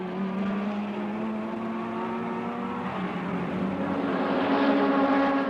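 Formula One cars at the 1961 German Grand Prix, a Ferrari and a Lotus, roar past in a sustained engine drone whose pitch slides and climbs as they accelerate, steady and moderately distant with no talk.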